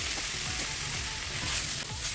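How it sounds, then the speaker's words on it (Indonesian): Chicken in chili and turmeric spice paste sautés in a hot pan, a steady loud sizzle and frying hiss with faint stirring scrapes underneath, close and continuous. "Tumis terus sampai bumbunya matang."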